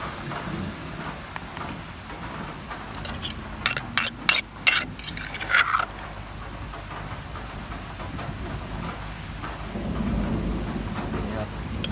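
Rain falls steadily outdoors during a thunderstorm, with a loud crackling burst of thunder midway and a deeper rumble swelling near the end.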